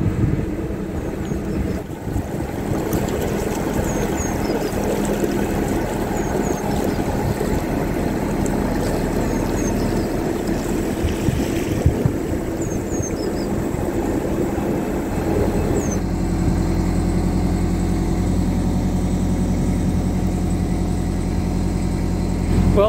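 A canal boat's engine idles with a low, steady rumble while mooring at a marina. The engine deepens and grows louder toward the end, with faint birdsong above it and no talking.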